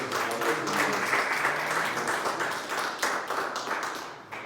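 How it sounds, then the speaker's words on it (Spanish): A church congregation applauds during a Sunday school service, a steady loud wash of many hands clapping that thins slightly toward the end. "Denle el aplauso al Rey de Reyes."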